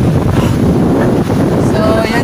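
Strong wind by the sea at night buffets the microphone in a loud, continuous roar, with the wash of the sea faintly underneath.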